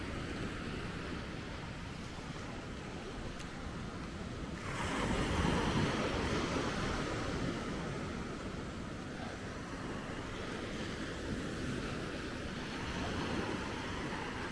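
Waves wash onto a beach at Maspalomas on Gran Canaria, a continuous rushing surf with wind noise on the microphone that swells louder midway through.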